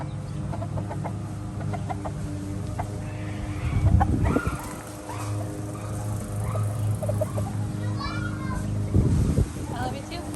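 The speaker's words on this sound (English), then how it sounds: "Here is all of our roosters." Six roosters on a small farm crow and cluck nearby, with gobbling and other fowl calls around them over a steady outdoor hum; a few louder bursts stand out against the ongoing chatter of birds.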